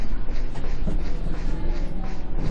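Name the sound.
London Underground train departing in World of Subways 3 video game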